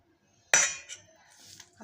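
Metal utensils clink against a pot as kaju katli dough is moved into another vessel, one sharp clatter followed by lighter scraping taps in a quiet room.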